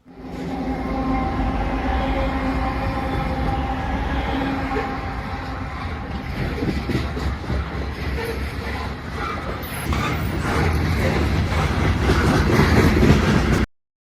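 Norfolk Southern locomotive 1066 leads a loaded grain train past signals, a steady rumble of rolling wagons with rhythmic wheel clatter that builds louder toward the end before cutting off.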